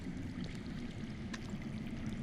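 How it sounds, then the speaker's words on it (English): Steady underground water rushing in a Game of Thrones: Sword in the Darkness video game scene, a continuous dense low wash with faint gurgles, constant and alone. "I hear water. From underground."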